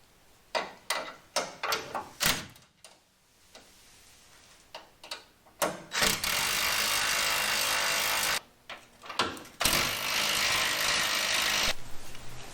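Metal lock nuts being tightened onto knurled subframe studs on a Chevy Nova: quick bursts of sharp ratcheting clicks, interrupted by a couple of longer steady whirring runs, close and fairly loud.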